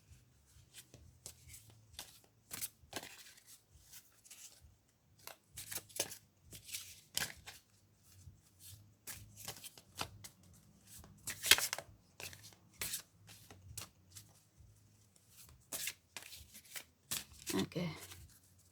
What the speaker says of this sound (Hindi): इस डेक में से भी मैं कार्ड सेलेक्ट कर लूँगी।